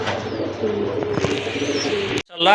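Silver Gorra fancy pigeons coo in a loft, a close, continuous, throaty burbling that runs for a couple of seconds before a brief break and another soft call.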